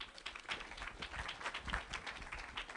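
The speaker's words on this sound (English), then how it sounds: "Maybe give yourselves a round of applause." Workshop audience applauding at a community gathering, a steady wash of clapping from many hands at moderate distance, continuous and fairly faint throughout.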